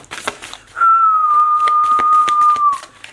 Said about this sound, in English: My whistle is a little weak.